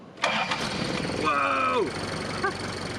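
Isuzu Elf truck with a new starter, cold after sitting in snow: a sharp click, a short whirring crank, then the engine catches and settles into an idle, with a brief human exclamation over it.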